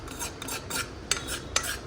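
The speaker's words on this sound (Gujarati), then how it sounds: "તો અંદર મેંદો નાખીને આપણે એને મિક્સ કરશું પ્રોપર" A spoon scrapes and stirs flour into butter in a pan for white sauce, making a few short rasping strokes with soft clinks, close and fairly quiet, with no talking.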